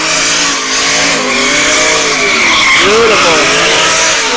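Drift cars do burnouts at Sebring Raceway, engines roaring at high revs with tire squeal and skidding, loud and sustained, while an excited commentator talks over them.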